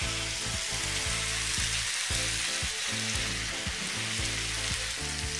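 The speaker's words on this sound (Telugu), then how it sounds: "ఇప్పుడు ఇందులో ఒక హాఫ్ అన్ అవర్ నానబెట్టి పక్కన పెట్టుకున్న రైస్ని కూడా వేసి ఒకసారి కలుపుకుందాం" Soaked rice being stirred into a frying tomato mixture for tomato rice, giving a steady close sizzle with repeated scraping stir strokes throughout, no talking.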